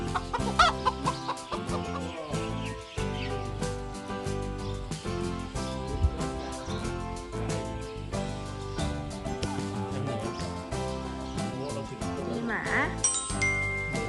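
A voice mimics a chicken's clucking during a temple visit, a short run of cluck-like calls set against a dense, continuous musical background.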